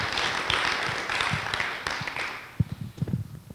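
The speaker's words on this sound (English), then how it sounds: "so I'd like a round of applause for Fred, too." Audience applause at a community water district meeting, a dense wash of clapping for about two seconds that thins into scattered individual claps toward the end.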